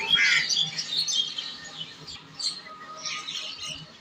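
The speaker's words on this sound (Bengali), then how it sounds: "সব জাতের পাখি আছে।" Many birds call at once on a village morning, with crows, pigeons and other species mixed in a busy chorus of chirps and squawks, steady across the stretch with several louder bursts, no talking.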